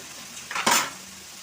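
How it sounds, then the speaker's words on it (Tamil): Eggplant frying in oil in a pan, a low background sizzle broken by one brief burst of hissing and a metallic utensil scrape near the middle, with no talking. "எண்ணெயிலே நல்லா வதங்கட்டும்"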